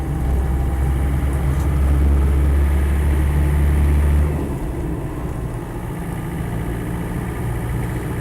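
A Land Rover 90 with a 2.5 TD diesel engine chugs along in fifth gear, a steady low rumble heard from inside the cab that drops in intensity about halfway through.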